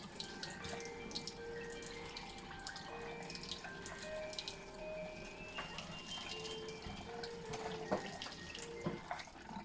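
Filtered water runs steadily from a tap, a continuous close splashing stream with faint chirps in the background.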